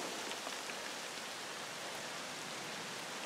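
Rain pours steadily over a kayak camping spot during a monsoon shower, a dense, even hiss of drops with no break, close and enveloping, and no voices.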